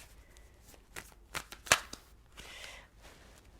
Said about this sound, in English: let's pull the first 3 cards